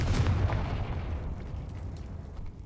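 A Confringo fire spell explodes in the video game Hogwarts Legacy with a heavy, rumbling boom that fades gradually, loud and close with no talk over it.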